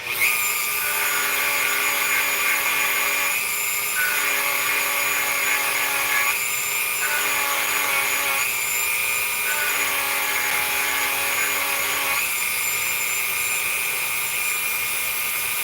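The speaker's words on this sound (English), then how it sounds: "So we're going to sand it down." A high, steady whine from a rotary tool sanding a 1921 silver dollar being made into a size 12 coin ring, loud and close, its pitch stepping up and down several times with no voices.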